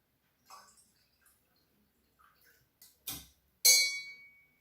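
A wine glass partly filled with water, played as a makeshift instrument, gives two sharp struck notes close together; the second rings on briefly with a clear, glassy tone after a few faint soft touches.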